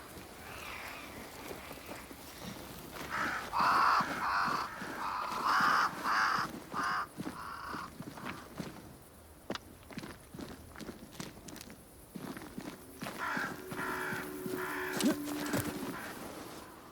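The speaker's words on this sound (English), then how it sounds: "Crows. They flock to that great tree up there." Crows caw repeatedly around a great tree in the Mire Marshes of a game world, harsh calls clustered in bursts, mixed with footsteps and ambient game sounds.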